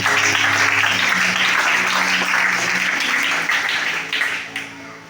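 A church congregation at a Sunday service applauds loudly and steadily, a thick roar of many hands with a low sustained musical tone underneath, tapering off toward the end.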